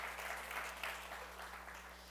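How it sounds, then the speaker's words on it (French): A church congregation applauds in steady, fairly soft clapping over a low electrical hum, tapering gently near the end with no one speaking. "Est-ce qu'on peut les applaudir pour le beau travail qu'ils font?"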